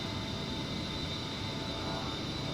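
An airplane engine in a combat flight video game drones steadily throughout, a dense constant roar with no voices over it.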